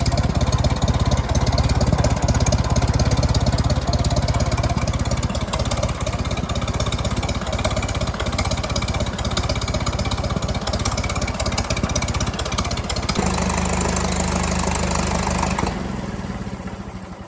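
An old tractor engine idles steadily and loudly, then the note changes near the end as the carburetor runs out of fuel and the running fades.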